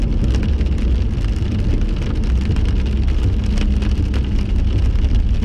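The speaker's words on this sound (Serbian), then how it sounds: "Kiša se, ljudi, ne šali." Heavy rain pours down steadily and loudly, a dense, unbroken roar of drops hitting surfaces with a low rumble underneath, and no voices.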